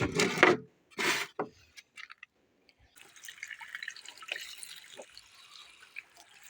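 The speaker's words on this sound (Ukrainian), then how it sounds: "Ой, як я люблю ноги мити так. Під краном." Cold tap water runs and splashes as bare feet are rinsed under an outdoor faucet, steady broadband rushing from about three seconds on after a few louder drips and knocks at the start.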